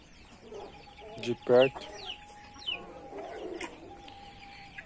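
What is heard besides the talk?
poultry birds clucking and cooing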